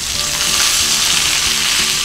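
Steady, loud sizzling of salmon frying in a hot pan, a continuous crackling hiss with no voices.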